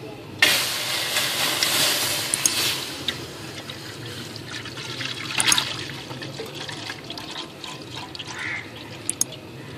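Milk heating toward a boil in a pot for Eid seviyan in a village kitchen: a hissing, bubbling wash that swells loudly near the start, then settles, with a few sharp clinks scattered through.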